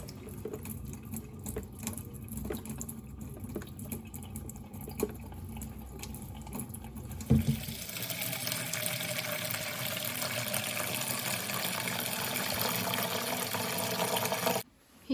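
Warm water runs from a tap into a container at a stable, with a steady filling rush starting partway through after quieter handling noises, then stopping abruptly.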